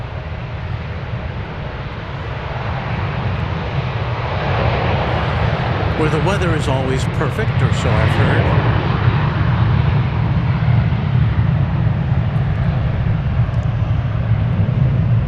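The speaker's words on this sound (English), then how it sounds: "after we watch this plane take off for San Diego" An airliner departs from DFW Airport bound for San Diego, its jet engines roaring steadily and growing louder as it rolls and climbs, with someone talking over the noise.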